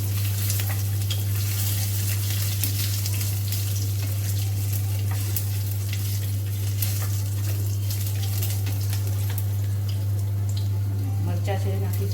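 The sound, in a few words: ginger pieces added to hot oil, sizzling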